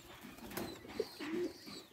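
Pigeons in a winter loft give faint, soft low coos, a few short throaty calls over quiet background hiss, with no talk.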